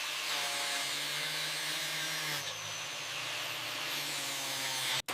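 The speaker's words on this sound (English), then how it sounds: "Grinding the welds perfectly flat and seamless." Steady, loud power-tool whine of grinding welds flat on a 1930s car body, continuous for about five seconds with a slight shift in pitch midway and a brief cut-off at the end.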